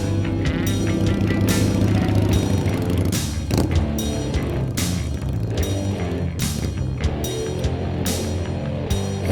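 A motorcycle idles low and steady through a slow, sharp turn, its engine rumbling with regular ticking bursts and nearby mechanical clatter, loud and alone without speech.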